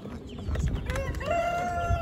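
Chickens clucking and a rooster calling at a busy poultry market, close and fairly loud over crowd murmur, with a drawn-out crowing note near the end.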